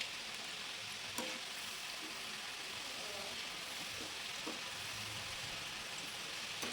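Savory shankarpali dough pieces deep frying in hot oil over a low flame, a steady dense sizzle with occasional sharp pops and crackles, close up with no talking.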